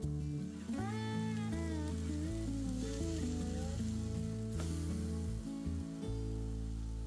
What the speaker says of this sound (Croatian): Pecite ih u tavi, rerni ili pizza tavi kao što sam to ja učinila.